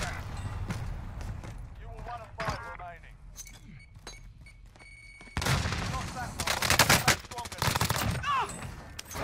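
Gunfire in Call of Duty Warzone, with bursts of automatic fire and sharp single shots, mostly sparse at first and then a dense loud volley in the second half, along with clinks and metallic rattles.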